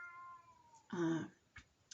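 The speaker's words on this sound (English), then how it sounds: "Sorry about the cat." A house cat meows indoors, a drawn-out rising call followed by one loud close meow and a short chirp, clear against a quiet room.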